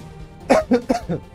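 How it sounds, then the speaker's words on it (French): Quick burst of three or four short, close coughs from one person during a live-streamed music quiz, each sharp and throaty, with silence before and after. "J'ai toussé."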